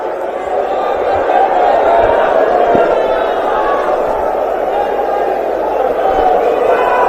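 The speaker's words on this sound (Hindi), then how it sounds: "जोरदार तालियों से स्वागत कीजिए।" Loud, dense roar of a huge rally crowd at Ramlila Maidan cheering and clapping to welcome a speaker, continuous and close with shouts mixed in.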